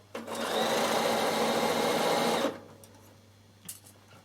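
Sewing machine stitches a seam in very light linen on a napkin, a steady close whirring run of about two seconds that stops abruptly, followed by quiet room tone.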